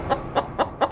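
Four quick, evenly spaced clucks from a chicken, close and clear, in under a second.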